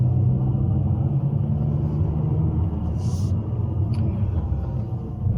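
Steady low engine rumble and vibration from a car idling under low load after a Corksport rear engine mount install, continuous and fairly loud throughout with a brief higher hiss midway.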